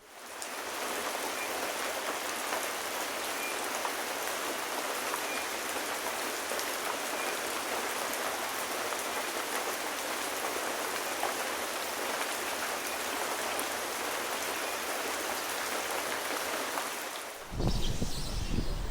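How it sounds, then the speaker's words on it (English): Heavy rain pours steadily during Hurricane Milton in Orlando, a dense, loud, unbroken wash of falling water that holds for most of the stretch before cutting off abruptly near the end, leaving a rougher, gustier background. "I'll wait for the rain to ease off a bit"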